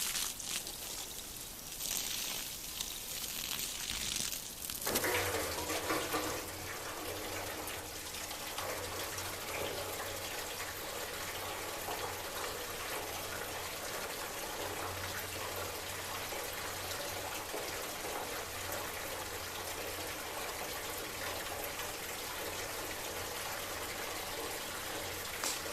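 Water gushing steadily from the output hole of a homemade orchard sprayer built on an Allis B tractor, a continuous broad splashing rush that holds for about twenty seconds after a brief quieter start.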